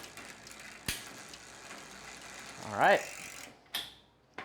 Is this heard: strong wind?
no